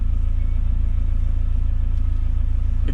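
A Mazda Miata idles with a low, steady engine rumble, even and continuous from start to finish, heard up close with no talking.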